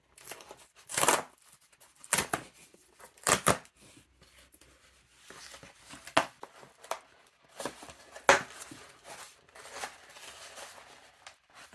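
A taped, battered mailed box package is torn open by hand, with sharp bursts of ripping tape and cardboard, crinkling and rustling between pauses, close and loud.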